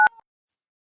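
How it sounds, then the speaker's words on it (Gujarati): A phone gives a single short dialing tone burst, clipped and loud, followed by silence. "ખમ હું મારા ભાઈને ફોન કરી લઉં."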